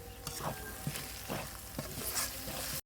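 Spice paste of cumin, coriander, turmeric and dry chili powder with salt fries in a pan, a soft steady sizzle with regular scraping strokes of a spoon, quiet and close.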